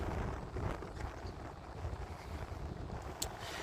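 Wind buffeting a microphone outdoors in Malmö, Sweden: a steady, rumbling low roar with gusty swells throughout, no talk.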